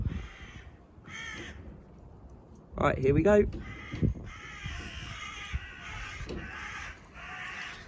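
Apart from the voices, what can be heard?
crow cawing loudly outdoors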